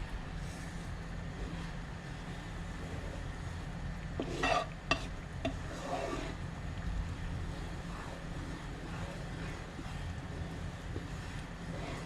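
Chili garlic sauce being stirred in a pan, with a steady low simmering rumble, a few scraping strokes around the middle and no talking.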